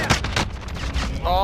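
Rapid gunfire bursts ring out during a Warzone video game match, dense and loud across the whole moment, with a voice shouting over the shots.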